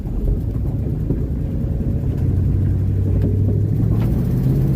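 A 1967 Dodge Charger with a 383 big-block V8 rumbles steadily at low revs while turning around, a deep, close engine drone that swells slightly partway through.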